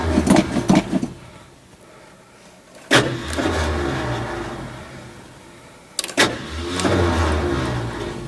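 A Ford Ranchero with rounded-off starter bolts cranking with a harsh grinding starter noise, heard in several loud bursts separated by pauses, the engine catching and running rough in between.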